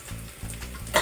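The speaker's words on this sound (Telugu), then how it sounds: "ఉల్లిపాయలు వేగినట్టు ఉన్నాయి" Onions frying in a pan for biryani give a short burst of close sizzling with a quick stirring scrape at the end.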